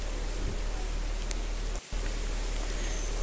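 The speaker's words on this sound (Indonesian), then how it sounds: "Ketika kami sampai di Kawah Mati, hujan deras." Heavy rain pours at Kawah Mati crater, a dense, steady hiss of downpour close around the listener, briefly cut by a short gap near the middle.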